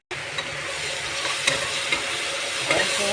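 Red chilli powder, ginger and garlic fry in a pan of oil for biryani, sizzling steadily and loudly while a spoon stirs them, adding occasional scraping taps.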